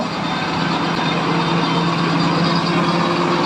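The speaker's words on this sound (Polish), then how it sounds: "Prowadzi ciągnik Waltra n 140 174 z przyczepą." A Valtra N174 tractor pulling a trailer in a harvest festival parade, its steady loud engine drone and rumble continuing evenly and close throughout, with no talk over it.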